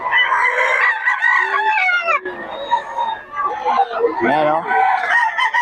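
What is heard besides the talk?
gamecock rooster crowing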